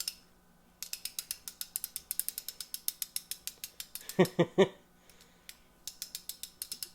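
Rapid mechanical clicking of a cordless ratchet's pawl over teeth, in fast runs with a short pause, plus a few louder knocks midway.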